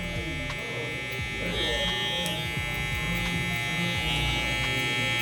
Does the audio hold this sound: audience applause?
no